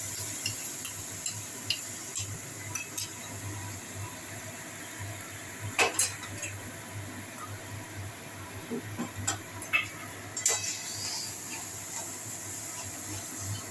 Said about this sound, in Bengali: দইটা দিচ্ছি।